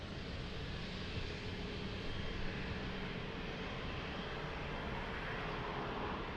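A TAP Air Portugal airliner at Lisbon Airport gives off a steady, broad jet engine roar that stays even and moderately distant throughout, with no talking.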